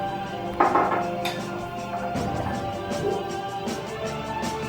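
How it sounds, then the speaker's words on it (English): Children beating eggs in a bowl with a utensil, clattering and scraping with irregular clinks, close and moderately loud, with a few sharper knocks. "Number 5, select a child to mix your eggs. Mix the eggs, child."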